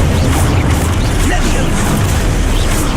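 A Descendo spell strikes with a heavy booming crash in the Hogwarts Legacy video game, loud and dense from start to finish over a rumbling game backdrop.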